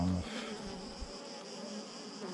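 Dense, steady buzzing of honeybees from a shaken drone-laying colony, a continuous close swarm hum sustained throughout with no talk.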